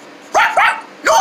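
A cartoon dog gives three quick, loud, close barks, two in rapid succession and a third after a short pause.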